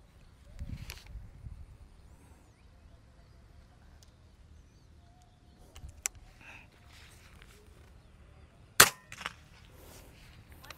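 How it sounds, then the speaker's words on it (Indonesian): An air rifle fires one crisp, loud shot late in the clip, after a lull with a few faint clicks and handling noises. "Lanjut tembakan ketiga."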